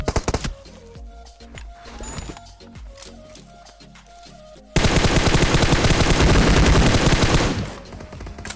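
A mobile shooter game produces sparse single shots and short bursts of gunfire, then a dense, loud, sustained volley that cuts in sharply and fades away near the end.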